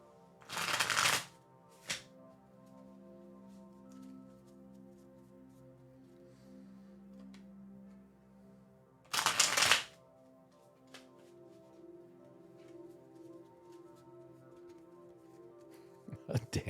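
A Rider Waite Smith tarot deck shuffled close by, with two loud riffling bursts separated by a long quiet stretch, a few small card taps in between and more shuffling starting at the end.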